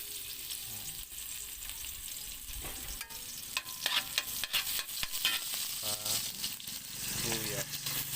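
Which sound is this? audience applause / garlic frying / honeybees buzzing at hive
garlic frying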